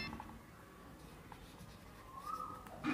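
A pen scratches steadily across a board for almost three seconds, quiet but continuous, with a faint squeak near the end.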